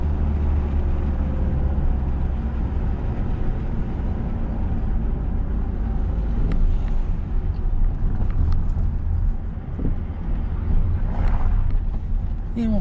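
A car on a driving lesson accelerates gently, its engine giving a steady, broad rumble with road noise throughout, loud and close from inside the cabin, with voices talking faintly underneath.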